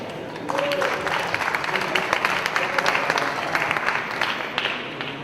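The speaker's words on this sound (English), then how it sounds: "Please give a big round of applause for David." Audience applause at a tech conference as a speaker takes the stage, a full rattling crowd clapping that starts abruptly and continues steadily, with a voice briefly heard at the start.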